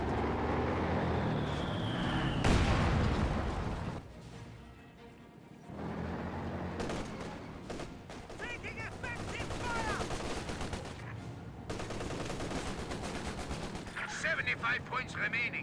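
Rapid bursts of gunfire and heavier artillery-like blasts from a Company of Heroes 2 multiplayer battle, loud and continuous with booming impacts, layered over game effects and interrupted by short lulls.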